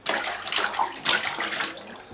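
Water splashing in a bath or pool, a few bursts of splashy noise across two seconds, close and moderately loud, alone without talk.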